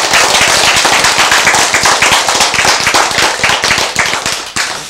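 An audience claps together, dense fast rhythmic applause held loud and close for about five seconds, tapering at the end with no talking.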